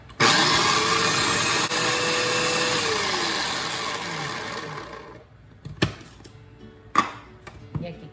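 An electric mixer beats a milk mixture for a layered pastel de nieve ice cream cake, a loud, steady whir for about five seconds before it winds down, followed by a few sharp clatters.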